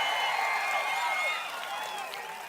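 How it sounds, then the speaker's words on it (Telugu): A large crowd cheers and claps at a TDP Prajagalam election rally in Pedana with Chandrababu Naidu and Pawan Kalyan, a steady roar with shrill whistles that eases slightly toward the end. "గట్టిగా చప్పట్లు కొట్టి హర్షాన్ని ఆమోదం తెలియజేయండి"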